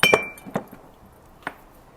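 Glasses clinking together in a toast over whisky with ice, Yamazaki 30-year-old: a sharp near clink followed by a couple of lighter taps and one more clear clink, alone without talk.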